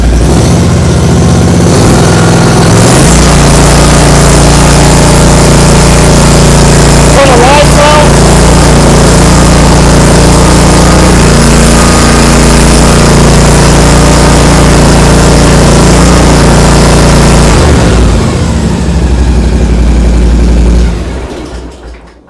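Hustler Raptor SD riding mower engine starting up and running, a loud steady mechanical drone close by that holds for most of the time, then cuts off and fades at the end.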